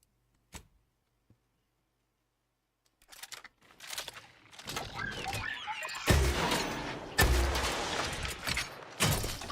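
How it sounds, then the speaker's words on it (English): Lock-on rocket launcher firing in The Outer Worlds 2, a few sharp isolated clicks, then a build of whooshing launches and heavy blasts that swell into loud repeated booms with crackling debris. "Lock on rocket launcher."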